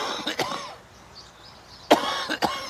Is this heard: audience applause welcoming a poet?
no